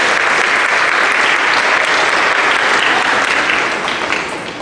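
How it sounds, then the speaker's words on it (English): Loud, sustained applause from an audience at a school awards ceremony fills the hall, steady throughout and tapering slightly at the end. "Let's give another round of applause for Miss O'Quinn Tyrone."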